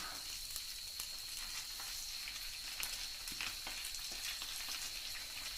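A faint, steady sizzle of mackerel frying on a hot pan, with scattered soft pops and a thin high hiss throughout.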